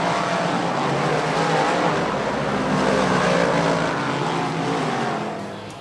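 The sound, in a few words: race cars racing at Lernerville Speedway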